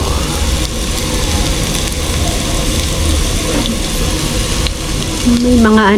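Onions sizzling and frying in a pan for a beef offal soup, a steady dense crackle with a brief tonal scrape near the end and faint voices underneath.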